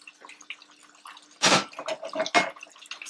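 Water from a kettle poured into meat cooking with ground seasoning in a pot, a soft dripping start followed by two louder splashing gushes and bubbling, close by, no voices.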